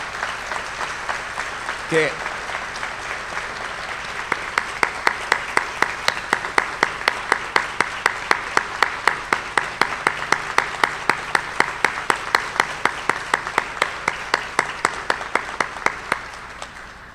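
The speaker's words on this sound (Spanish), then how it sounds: "Me gustaría aprovechar el momento para pedir un aplauso para Silvina" An audience at a university ceremony applauds. Brief speech comes first, then the clapping builds into sustained, loud applause that turns into steady rhythmic clapping before fading at the end.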